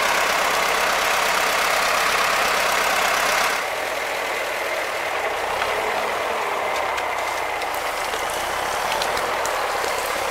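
A DT-75 crawler tractor, running again after 25 years idle, rumbles steadily through deep snow near a swamp, its engine loud and close with a continuous harsh drone that eases slightly partway through.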